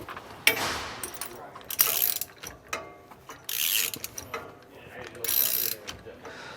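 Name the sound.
ratchet tightening a steering stabilizer bracket bolt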